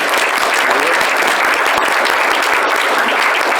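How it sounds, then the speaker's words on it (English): Steady applause from a crowd, dense and sustained clapping at even loudness throughout, with no pauses. "a round of applause for those three folks"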